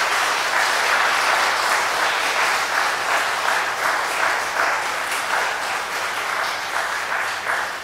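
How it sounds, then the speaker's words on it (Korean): A church congregation breaks into steady, sustained applause welcoming their pastor to the front, a dense wash of many clapping hands that stays loud and close throughout with no talk over it. "우리 목사님 나오실 때 우리 크게 한번 박수로 환영하도록 하겠습니다"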